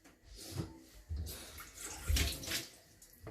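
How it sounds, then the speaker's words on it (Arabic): Lentils being rinsed in water for a lentil and chicken soup, with splashy swishing and pouring bursts coming in uneven waves, close and moderately loud, with no talking. "نغسل شويه العدس"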